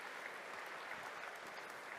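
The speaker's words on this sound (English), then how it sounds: "A big applause for him, the man with the vision behind KTM, Mr. Pierer." Steady audience applause at the EICMA motorcycle show in Milan as KTM CEO Stefan Pierer comes on stage, a dense, even wash of many hands clapping, moderately distant, with no voice over it.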